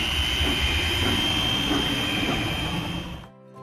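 A rail grinder machine runs in a train railway station video game, a steady loud mechanical drone with a high whine that holds evenly before cutting off abruptly near the end.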